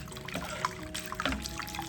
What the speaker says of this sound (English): I'm rinsing them.